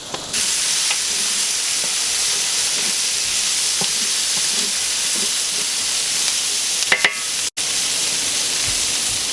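Paella ingredients sizzling and cooking down together in a hot pan with a little smoke rising, a steady broadband hiss throughout with a few faint clinks and one brief dropout near the end.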